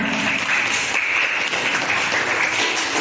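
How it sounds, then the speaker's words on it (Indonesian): A classroom of students gives a brief, dense burst of applause, continuous and fairly loud, with no break in the sound. "Tepuk tangan untuk Aisyah."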